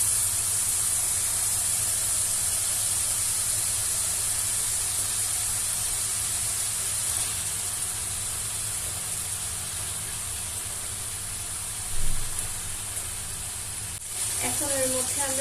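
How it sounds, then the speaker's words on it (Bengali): Chicken pieces for a desi chicken curry hiss and sizzle in fried spice paste, a steady broadband hiss running throughout with a brief bump near the end. "মশলাটি ভাজা হয়ে গিয়েছে। এখন আমরা এর ভিতর দিয়ে দেব মাংসগুলো দিয়ে দেব।"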